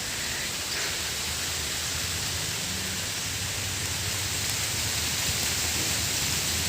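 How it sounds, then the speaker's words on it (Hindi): Steady rain pours outside a home during cool, windy weather, a dense continuous hiss with no voices, even and close throughout. "अब बरसात हो रही है"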